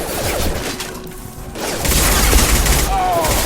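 Gunfire rings out in a Mass Effect Legendary Edition firefight against shielded enemies, a dense, loud rattle of shots and booms building through the clip amid battle noise.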